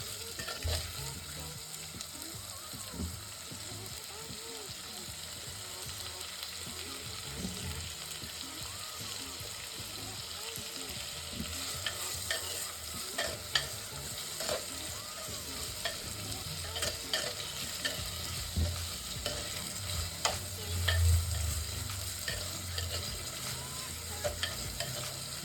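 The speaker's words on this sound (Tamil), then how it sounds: "நல்லா ஃப்ரை பண்ணிக்கோங்க." Mutton liver frying in a clay pot: a steady, close sizzle with soft stirring scrapes and occasional crackles running continuously, no voices.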